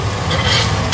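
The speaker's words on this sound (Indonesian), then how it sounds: "Tumis sampai wangi." Garlic and chili sautéing in a hot pan: a loud, dense, close sizzle that holds steady through a brief burst, with no voices.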